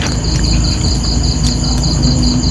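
A grasshopper buzzing with a loud, steady high-pitched trill that pulses rapidly and continuously, close by, with no voices.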